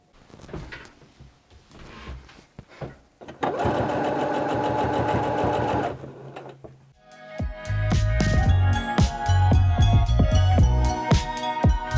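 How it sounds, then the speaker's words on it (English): A sewing machine stitches down pieces of a fabric bunny hoodie, running in two steady whirring bursts with a rhythmic needle clatter, close and clear, with faint handling sounds before it starts. "I'm just going to sew them down and allow it to have character."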